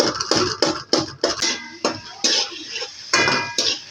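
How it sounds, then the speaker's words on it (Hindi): A spoon mixes and breaks up softened tomatoes in a pot while cooking tinday karahi, giving repeated clinking scrapes and knocks against the metal in an uneven rhythm, close and fairly loud, with no talking. "टमाटरों को अच्छी तरह इसके अंदर मिक्स करेंगे तोड़ के।"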